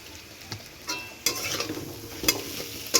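Spices and salt are stirred in a pan for rui posto with potato and eggplant, giving a low steady sizzle broken by several quick scraping strokes at irregular intervals, fairly close and moderately quiet.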